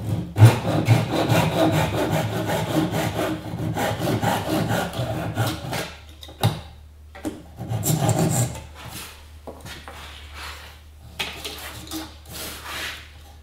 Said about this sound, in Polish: Tutaj piłę japońską w dłoń.